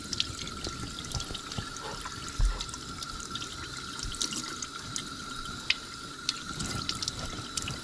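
Steady running water splashing under a tap while razor clam meat is rinsed clean of sand and guts, a continuous close hiss with small irregular splashes and no talk.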